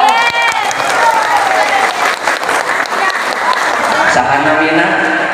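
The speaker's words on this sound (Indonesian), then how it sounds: "Tepuk tangan dong." Audience applause at a Rajab Islamic sermon gathering, a dense, steady wash of many hands clapping that lasts the whole stretch, with voices talking over it.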